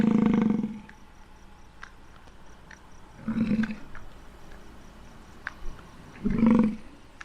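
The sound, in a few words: wild bison herd grunting in Custer State Park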